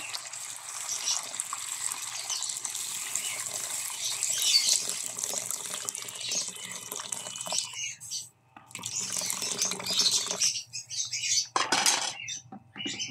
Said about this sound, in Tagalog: Lagyan natin tubig.